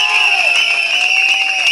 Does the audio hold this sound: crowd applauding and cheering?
yes